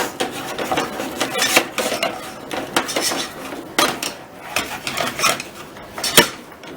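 An egg is mixed into chocolate cake batter in a bowl, a close, busy run of utensil scrapes and clinks against the bowl in quick irregular strokes, with no talk.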